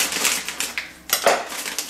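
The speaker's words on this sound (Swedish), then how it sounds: "så häller jag upp alla nonstops" Nonstop candy-coated chocolates poured out while decorating a chocolate gingerbread-style house, giving a dense clattering rattle of small hard pieces in several bursts, fairly close and loud with no talking.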